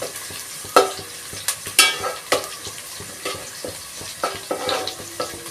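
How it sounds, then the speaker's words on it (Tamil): Onions sautéing in a pan for a South Indian fish curry, with repeated scraping stirs and clinks over a light sizzle, close by. "பாருங்கள், இந்த அளவுக்கு வெங்காயம் வதக்கணும்."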